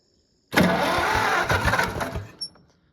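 An Oliver 70 tractor engine, long out of use, cranks and catches abruptly, running loud and rough for about two seconds before sputtering down, with a short clink near the end.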